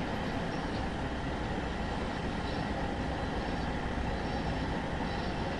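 A packed Northern Rail express train heads to Leeds in Train Sim World 2, rumbling steadily with constant broadband wheel-and-track noise and a low drone throughout, fairly loud and with no voices.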